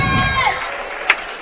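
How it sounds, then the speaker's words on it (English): Wrestling crowd at a regional finals bursts into cheers and whoops, loud and close at first, then settling into a steady murmur with a couple of sharp shouts near the end. "Getting a little excitement here from the Brush crowd that's sticking around."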